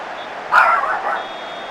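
One short, sharp dog yelp or bark rings out close by in a quiet indoor room, with a faint high electronic tone lingering in the background.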